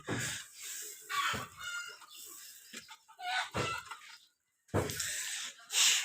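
Chickens cluck and call in bursts close by, with a brief quiet gap before the clucking resumes.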